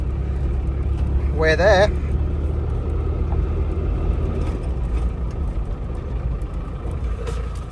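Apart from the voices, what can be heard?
Land Rover Discovery driving with noisy transfer box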